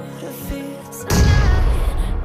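A grenade goes off in the mobile battle-royale shooter BGMI/PUBG Mobile: a sudden loud, close boom about a second in, followed by a rumbling, crackling tail that holds at full level to the end.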